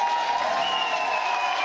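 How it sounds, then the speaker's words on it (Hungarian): Steady audience applause with some crowd noise for the drummer at a rock concert, a continuous dense clatter of clapping held at an even level throughout. "egy nagy tapsot kérek neki."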